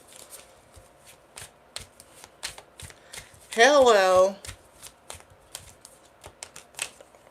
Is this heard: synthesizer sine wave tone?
no